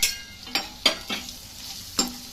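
Cumin and pepper powder frying in a pan for a tomato-tamarind pepper rasam, a soft sizzle broken by several sharp scraping stir strokes at an uneven rhythm.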